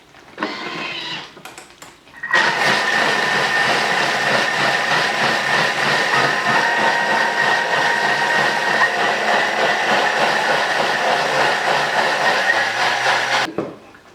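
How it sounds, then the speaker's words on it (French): A kitchen blender whirs loudly and steadily as it blends homemade plant milk, its speed stepped up toward the top setting, after brief clatter at the start, then cuts off abruptly near the end. "Et je mixe vitesse 10 progressivement."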